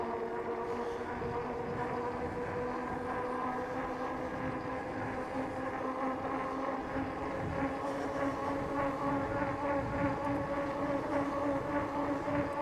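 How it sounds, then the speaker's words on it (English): All-wheel-drive electric bike motor accelerating at pedal assist 5, a continuous droning whine with a slowly rising tone over steady road and wind rumble, sustained and fairly loud throughout. "From pedal assist 4 to pedal assist 5. There we go, hear that motor?"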